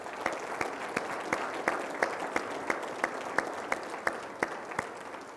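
An audience at the Douglas County State of the County 2023 event gives a round of applause. The clapping is steady, with sharp individual claps standing out over a dense, even patter.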